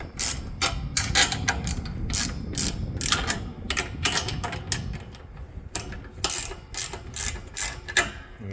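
A ratchet wrench loosens a 13 mm nut on an outdoor antenna mount, its rapid clicking bursts repeating in quick, uneven runs with brief pauses, close and loud.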